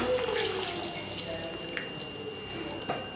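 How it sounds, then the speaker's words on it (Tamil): Coconut milk pours into a simmering stingray fish curry in a home kitchen, a soft steady liquid splash running continuously with a faint drip and gurgle. "சரி தேங்காய் பால் அரை முடி அம்மி அரை முடி தேங்காய் மிச்சில் போட்டு அடைச்சி பால இந்த திருக்க மீன் குழம்புக்கு ஊத்துறோம்."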